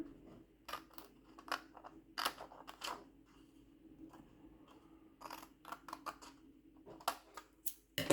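Scissors cutting straight along the lines of a paper pencil-skirt pattern, irregular crisp snips and rustles in short bursts, close by and fairly quiet, with no talking.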